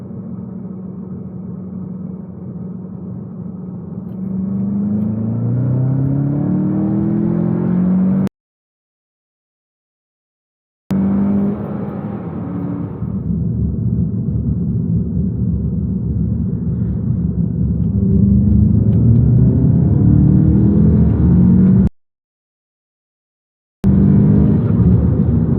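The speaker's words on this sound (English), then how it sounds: "I'm simply going to run from 50 to 100 kilometers per hour in second gear" A car fitted with an APR open intake pulls hard in second gear from about 50 to 100 km/h, a loud close engine drone rising steadily in pitch, cut by two brief silent gaps.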